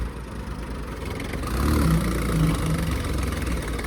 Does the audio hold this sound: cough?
no